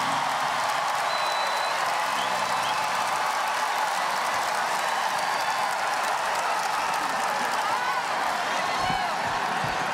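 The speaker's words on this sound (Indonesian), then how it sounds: "Kok tepuk tangannya paling keras nih" A large crowd applauds and cheers at a televised public event, a continuous roar of clapping and voices filling the whole stretch at an even, distant level.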